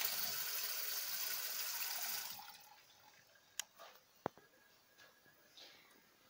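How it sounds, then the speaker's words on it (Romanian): A steady rush of cold tap water running over drained pasta for a couple of seconds, then it cuts off, leaving a few faint drips and clinks in a quiet room. "Voi da drumul să curgă un pic de apă rece peste ele."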